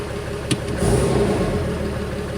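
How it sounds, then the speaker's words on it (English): A Cummins diesel engine with a stalling problem gets a quick throttle snap, with a short sharp click and then a brief rev rising over the idle, heard close, with no talking. "When you blurp the throttle like that, or throttle snap it we call, then you can really see the rail pressure drop."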